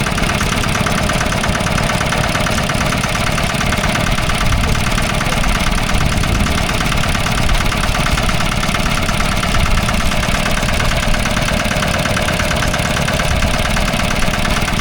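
A Lister diesel stationary engine running at a country show, a loud, close, continuous thumping drone with a steady knocking rhythm and no let-up.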